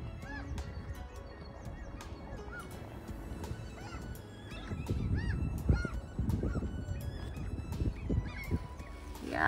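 A mute swan gives repeated nasal honks and snorting calls at close range, spread through the clip over a steady outdoor background, with no talking.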